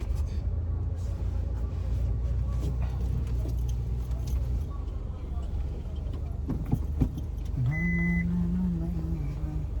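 A car manoeuvring in reverse gives off a low, steady engine rumble that fades midway, with voices talking over it and a brief tonal beep near the end.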